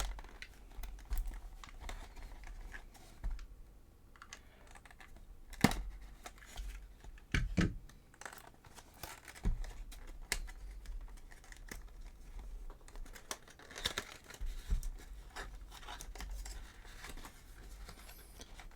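A Digimon ST-5 Machine Black starter deck is unwrapped from its plastic covering, giving quiet close crinkles, rustles and scattered sharp clicks and taps as the packaging is handled.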